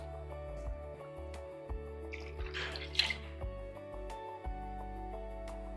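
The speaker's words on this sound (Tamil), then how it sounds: "இதில் வந்து தேவையான அளவுக்கு தண்ணி ஊற்றி இந்த குழம்புலேயே ஊற்றிக்கலாம்." Water is poured into a drumstick and brinjal curry in a brief splashing gush of about a second, set against soft background music with a few faint drips.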